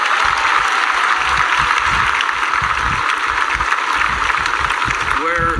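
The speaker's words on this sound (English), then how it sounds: "please give them a huge round of applause" An audience at a tennis event applauds steadily, a dense wash of clapping that runs throughout, with a voice briefly audible near the end.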